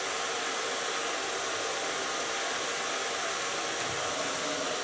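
A hair dryer blows steadily as it dries freshly permed and colored hair in a salon, a loud, continuous close-up whoosh with no talking.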